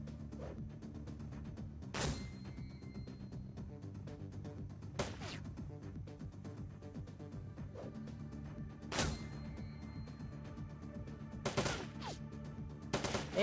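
Automated gun turrets fire in Shadowrun: Dragonfall, with several loud, sharp bursts of gunfire spaced irregularly over a steady low background hum of game ambience.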